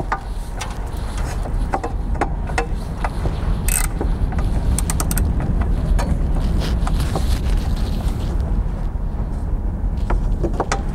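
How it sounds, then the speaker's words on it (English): Polaris Ranger 900 engine idling right after an oil change, a loud steady mechanical rumble with rattling and clicking throughout, close by and continuous. "And now we'll start it and run it for a few minutes to make sure we don't have any leaks"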